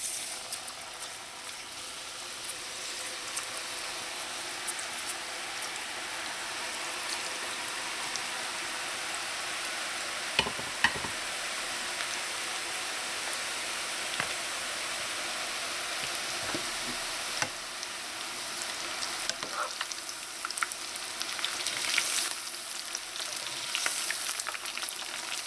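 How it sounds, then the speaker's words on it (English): Ladoo dal dough, squeezed through a ricer, frying in hot oil: a steady, dense sizzle with a crackling, rain-like hiss that carries evenly throughout, with a few brief sharper pops and clicks along the way. "You just fry it until it's light golden"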